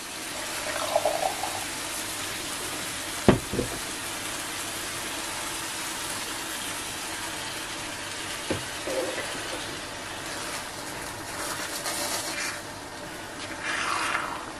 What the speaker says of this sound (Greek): Και θα προσθέσουμε και λίγο νερό.